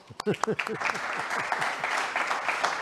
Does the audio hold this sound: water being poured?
no